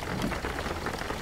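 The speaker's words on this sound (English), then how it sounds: "I regret choosing this route that has a bunch of rain" Steady rain in the driving game Jalopy, a dense broadband hiss of drops pattering continuously and evenly at moderate volume, with no talk over it.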